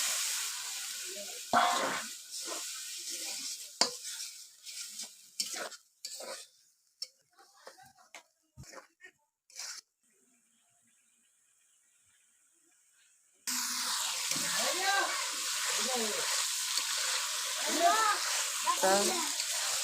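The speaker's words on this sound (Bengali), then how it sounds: "সব কিছু দিয়ে দিলাম একটু ভালোভাবে লাড়িয়ে মিশিয়ে নেব" Spice paste and jackfruit are stirred in a pan with clattering utensil scrapes and knocks. A short silence follows, then a loud, steady frying sizzle.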